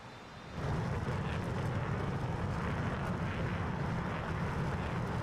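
F-22 fighter jet engine in the iRacing sim game, a steady low roaring rumble that swells up after half a second and holds at a constant level with no speech.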